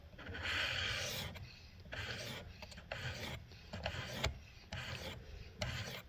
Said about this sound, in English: When you go to file it off, you'll hear it right away too.